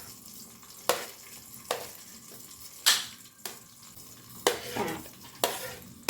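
Onion and tomato stirred in a frying pan with garam masala, giving a soft steady sizzle broken by several sharp scraping strokes of the spoon at uneven intervals, close and moderately loud.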